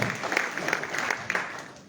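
A small indoor audience gives a short round of clapping, moderately faint and brief, fading out within two seconds.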